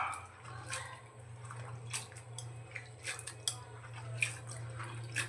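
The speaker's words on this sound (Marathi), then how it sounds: "आता गवार पाण्यात स्वच्छ अशी धुवून घ्यायची आहे" Cluster beans (guar) being rinsed by hand in a bowl of water in a home kitchen, with faint intermittent splashes and drips over a low steady hum.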